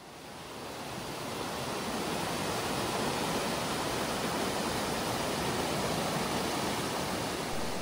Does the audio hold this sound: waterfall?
yes